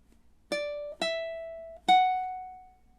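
Three plucked ukulele notes from measure 30 of Jimmy Buffett's Margaritaville, the first two quick and the last left ringing, played solo and close with no talking.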